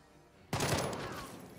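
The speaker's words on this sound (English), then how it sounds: "Burst fire, burst fire." A rifle burst rips out in Jagged Alliance 3, a sudden loud volley of rapid gunfire that cuts in from near silence and trails off into a ringing decay, with no talk over it.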